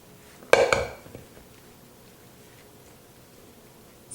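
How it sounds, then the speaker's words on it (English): Chicken and cheddar mixture scraped and spread into a baking dish, with a brief, close clatter of utensil against the dish lasting about half a second, then quiet kitchen background. "So now I'll spread it on my baking dish."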